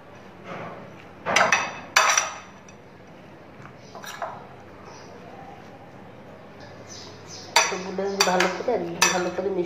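A metal utensil stirs eggplant slices with spices in a bowl, making sharp clinks in short bursts: two strikes early, one in the middle, then a quicker cluster of scraping taps near the end over a quiet room.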